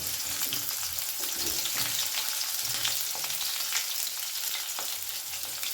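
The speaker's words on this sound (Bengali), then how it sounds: "উচ্ছেগুলো আমি লাল লাল করে ভেজে নেব" Bitter gourd pieces fry in hot oil in a pan, browning toward red, with a steady, dense crackling sizzle that carries close and fairly loud throughout, with no voices.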